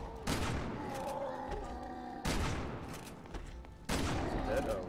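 Gunfire in the video game Resident Evil 6: three loud, close bursts about two seconds apart, each a sharp crack followed by a booming, reverberant tail that fades into the next shot.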